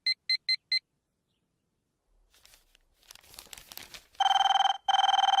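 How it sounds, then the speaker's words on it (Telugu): A telephone rings loudly and close by in two long, sustained bursts, preceded by a quick run of four short beeps and a stretch of rustling and crinkling noise. "ఈ ఫోన్ చంపేస్తున్నా"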